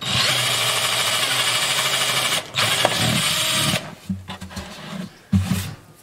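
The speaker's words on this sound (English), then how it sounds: "And of course, I have to drill through that new Paduk bridge plate." A power drill bores through a new padauk bridge plate inside a 1967 Martin D28 guitar, a loud steady whir for several seconds, then stopping and restarting in short uneven bursts.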